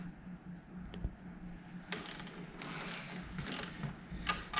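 Ratcheting clicks from a wrench tightening the pack rack bolts on a Yamaha TW200 motorcycle, a steady run of close mechanical ticks and clacks with a few louder snaps, no talking.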